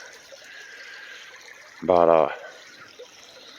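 Water trickling steadily into jugs from a spring, a faint continuous pour with a brief spoken word cutting in over it.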